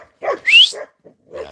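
A dog barks near a horse, giving a few quick, loud, close yips and barks in a short burst, one rising sharply in pitch, with brief gaps between them.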